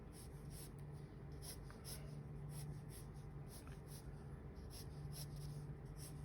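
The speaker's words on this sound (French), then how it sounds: "pourquoi pas commencer à dessiner des cubes aussi sur la même planche, un petit peu dans tous les sens, à main levée" A pencil sketching freehand cubes on paper: soft, steady scratching strokes with faint rhythmic scraping, quiet and close, with no voices.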